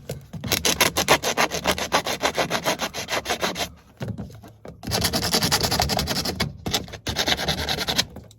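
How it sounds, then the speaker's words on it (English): Metal file rasping plastic pieces smooth for a chicken toy craft, close and loud, in rapid rhythmic back-and-forth strokes with a couple of brief pauses, no talk. "I'm actually using a metal file just to get the plastic off"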